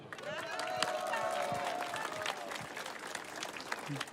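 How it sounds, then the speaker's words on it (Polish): A political rally crowd in Czeladź claps steadily and densely, with cheering on top, as a local official is introduced. "pan Zbigniew Szaleniec. Wielkie brawa!"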